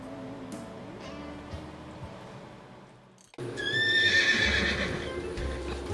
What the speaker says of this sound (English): I think the horse is going to make noise the whole time.